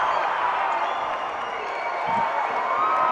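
A crowd at a college basketball game between the Eagles and Clearwater Christian College roars in a loud, continuous wash of cheering that stays steady from start to finish.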